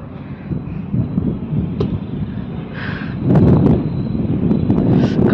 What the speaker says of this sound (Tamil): காற்று நல்லா அடிக்குது